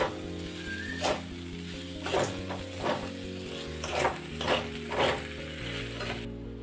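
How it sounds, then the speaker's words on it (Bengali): Carrots and capsicum are stirred with spices in a pan, each stir a scraping swish that repeats about once a second, with faint sizzling under a steady background tone. "এইবার ভালোভাবে একসাথে আমি মশলার সাথে এটাকে কষিয়ে নেব।"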